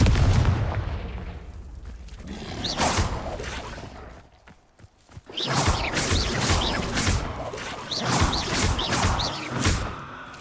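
Spell explosions from Hogwarts Legacy combat land as repeated heavy booms and cracking blasts with whooshes, coming in clusters with a brief lull midway before a fresh volley of close, loud detonations.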